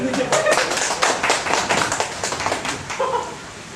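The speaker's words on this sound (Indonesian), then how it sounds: "Tepuk tangan dong." Stand-up comedy open mic crowd in Garut clapping on cue from the comedian, a burst of dense, close clapping that thins out toward the end, with some voices mixed in.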